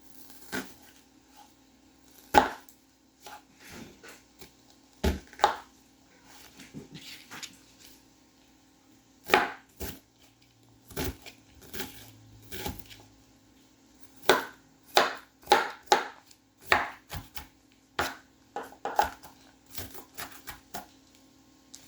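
Kitchen knife chopping half an onion on a cutting board while preparing a quick weeknight dinner with a burger on the stove; sharp irregular chops near and distinct, coming in bursts with short pauses, and no talk.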